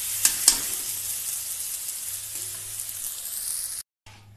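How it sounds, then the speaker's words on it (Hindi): Peas go into a pan of fried masala and sizzle with a soft, steady hiss, with a couple of sharp clinks of a spoon near the start and a short cut to silence near the end. "अब मैं इसमें डाल दूंगी मटर।"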